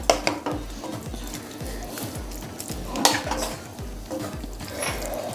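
Carrot halwa with milk stirred in a pan over medium heat, a spoon scraping and clinking against the metal in a steady repeating rhythm with a soft sizzle underneath.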